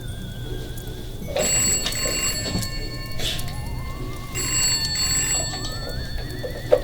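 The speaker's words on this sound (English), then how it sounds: "If it's Ty, tell that I am knee deep in pussy and I can't come to the phone." A telephone rings with bright, repeated bell trills in two separate bursts, sitting over a low background rumble.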